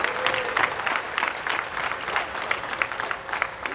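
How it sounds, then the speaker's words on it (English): An audience at a basketball Q&A event bursts into steady, moderately loud applause, a dense patter of clapping that carries on throughout with a faint crowd murmur beneath. "Yeah, I'll clap for that."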